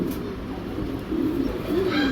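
GNS Cobra pigeons coo softly in a pair, repeated low burbling calls close by over a quiet background hum.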